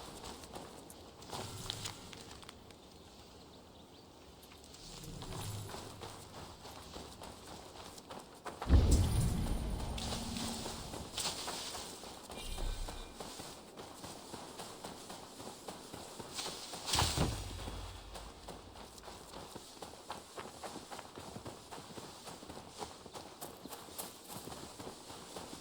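Horse hooves clip-clop in Assassin's Creed Valhalla as a horse is led for delivery, a steady moderate trot under rain-like game ambience, with a few louder thumps and no talk over it.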